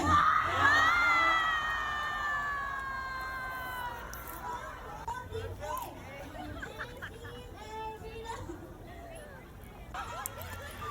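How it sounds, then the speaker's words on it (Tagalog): A crowd of students at a school garter-jumping game bursts into a loud, high shout and cheer that slowly fades into scattered yells, excited chatter and renewed calls, with voices talking throughout. "Lahat sumisigaw para sa kanya."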